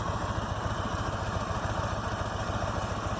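A 2019 Harley-Davidson CVO Road Glide motorcycle engine rumbles steadily on the freeway, a dense, continuous low throb with wind roar, loud and close throughout.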